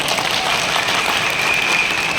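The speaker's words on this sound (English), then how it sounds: "Let's give a round of applause for this gentleman." Steady wash of applause from a seminar audience saluting a guest on stage, dense and continuous at an even loud level throughout, with no distinct individual claps standing out.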